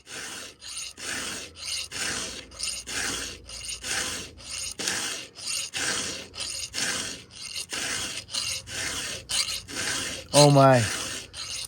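Hand file rasping against a chainsaw chain's cutters, a steady run of about fifteen even strokes close up, each a short gritty pass. A brief exclamation from a man comes near the end.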